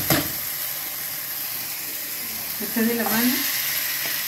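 Ají mirasol, with onion to follow, frying and being stirred in a pan for a fish stew: a steady close sizzle and hiss, swelling with scraping stirs near the end, while a voice speaks briefly.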